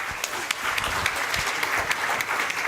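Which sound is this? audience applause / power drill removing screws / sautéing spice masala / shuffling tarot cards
audience applause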